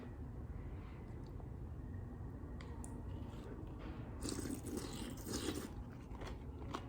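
Quiet, close chewing of crunchy mushrooms in miso soup, a few soft crunches and squishes over a steady low background hum.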